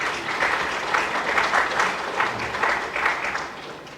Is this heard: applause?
yes